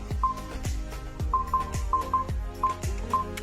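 Porsche Taycan Cross Turismo HaloMi aftermarket immobiliser playing its disarm melody: a short series of clear electronic tones at steady pitch, mixed with several thumping knocks, close and moderately loud.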